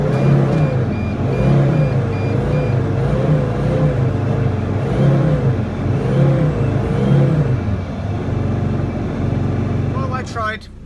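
A Mercedes Sprinter van engine with a turbo under-boost fault idles and rises and falls in repeated revs, loud and close, with a wavering whine over the engine drone.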